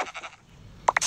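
Two short sheep bleats in Minecraft, coming quickly one after the other near the end after quiet game ambience, clear and fairly close.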